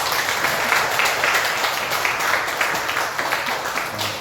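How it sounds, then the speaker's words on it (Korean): A hall full of members at an anniversary monthly meeting of a Daegu-Gyeongbuk civic society claps steadily, a loud, dense, continuous wash of applause with no voices over it. "우리 박수 한번 부탁드립니다"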